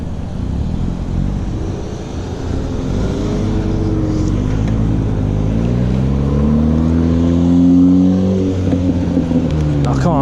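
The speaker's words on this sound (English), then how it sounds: "There's a significant amount of backed up traffic right here." Backed-up road traffic idling and creeping past a cyclist on a commute home, a steady broad engine rumble with a rising, revving vehicle nearby toward the end, loud and continuous.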